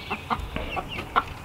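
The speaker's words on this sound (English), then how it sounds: "Yeah, that white one's definitely a rooster." Chickens clucking in a farmyard, a white rooster among larger hens, with short bursts of clucks spread across a brief moment at moderate distance and no talk.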